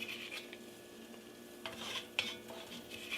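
Bacon being scooped out of a Dutch oven with a utensil, scraping and clinking against the pot amid faint sizzling of the rendered fat, with a few sharper knocks near the end.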